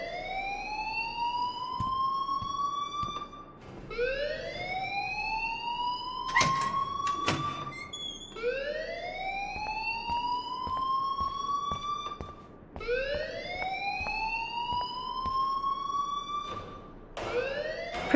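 A fire alarm rings inside the Life is Strange video game, a loud rising electronic whoop repeating about every four seconds, with sharp clicks and bangs breaking in between the sweeps.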